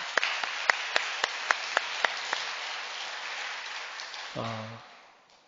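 A church congregation applauds steadily, dense clapping with a few sharp louder claps standing out early, before a brief voice cuts in and the applause fades.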